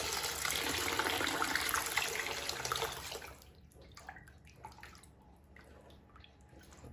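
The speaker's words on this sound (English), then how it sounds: "So I'm going to add water, about 2 cups." Water, about two cups, pours steadily into a pot of rice for a pumpkin stuffing, a loud gushing stream for the first few seconds that cuts off into faint drips and kitchen clatter.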